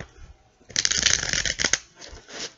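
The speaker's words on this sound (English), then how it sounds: "3 more shuffles in there." Tarot cards are shuffled by hand in a burst of papery riffling and flutter lasting about a second, close and fairly loud, with softer handling before and after and no talking.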